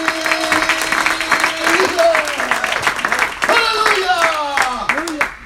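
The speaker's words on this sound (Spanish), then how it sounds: "Fuerte este aplauso." Congregation applauding during a church sermon, clapping mixed with voices and sustained tonal sound, loud and continuous throughout.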